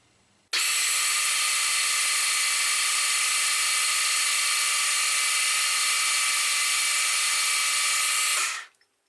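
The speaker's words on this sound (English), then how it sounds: "So I'm gonna drill it a little bit less than 5" A small power drill bores into a wobbler engine cylinder with a steady, loud high-pitched whine that starts abruptly, holds constant for about eight seconds and then winds down.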